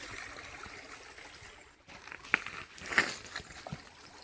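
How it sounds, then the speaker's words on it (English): Creek water trickles and flows softly along an old trail outdoors, a faint, steady stream murmur with a couple of brief splashy bursts. "now this is just a little more of a close-up of the creek"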